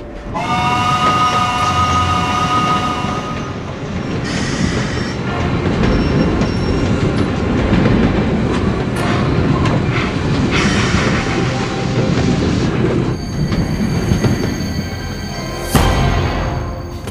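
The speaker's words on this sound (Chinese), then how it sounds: "火车马上就要起站了。" A train pulling away and rolling along the rails at a station in a period drama set during the war against Japan, with a steady rumble and clatter throughout, a horn-like tone early on and a sharp metallic squeal near the end.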